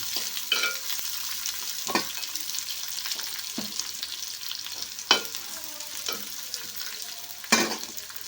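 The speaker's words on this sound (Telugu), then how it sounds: "ఇది కొంచెం రంగు మారేంత వరకు వేయించుకోవాలి" Green chillies, mustard seeds and onions fry in a pan for an egg potato masala curry, giving a close, continuous sizzle broken by several sharp spatula scrapes and clinks.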